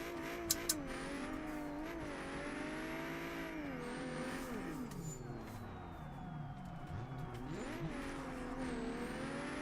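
Simulated car drifting with repeated handbrake pulls in a sim racing game such as BeamNG or Assetto Corsa, played inside a van: a steady engine drone that rises and falls with revs and tire slides, continuous and loud throughout.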